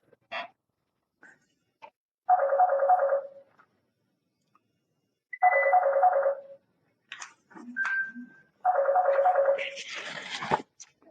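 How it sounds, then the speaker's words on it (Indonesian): A telephone rings in three bursts of warbling electronic tone, each about a second long and spaced a few seconds apart, loud and near in an otherwise quiet room, with a few faint clicks and brief noises between rings. "Ya, ada teleponnya."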